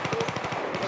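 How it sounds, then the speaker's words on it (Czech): Rapid gunfire bursts in a Battlefield video game, a steady rhythmic string of close, loud shots over the whole moment with no talk. "teď tam někdo střílí od nás, ty snipy"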